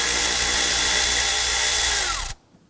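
A 7mm socket on a power driver loosens the lower intake tube fastener on a 2015-2020 Ford F-150 2.7L V6, a steady close whirring run for about two seconds before stopping abruptly into quiet.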